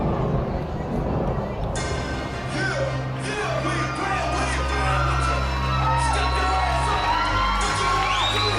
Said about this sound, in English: Here he comes to the adulation of the crowd.